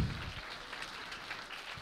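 Church congregation clapping together during a Sunday service, a steady dense patter of many hands at moderate volume that carries on without pause through the moment.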